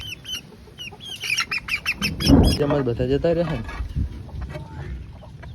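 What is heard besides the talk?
hen clucking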